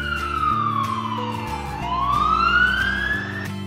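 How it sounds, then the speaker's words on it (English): A wailing electronic siren from a black toy police car sweeping down and back up in pitch once, loud and close, over a simple repeating tune. "Black police car."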